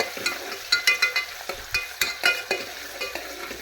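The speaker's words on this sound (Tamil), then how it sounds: "இது எண்ணெய் ஊற்றிருக்கேன், சின்ன வெங்காயம் போட்டிருக்கேன். சின்ன வெங்காயம் போட்டு நல்லா கொஞ்சம் செவக்க விடுவோம்." Small onions fry in hot oil for a Tamil kuzhambu with a steady close sizzle, broken by repeated scraping stirs, with no talk.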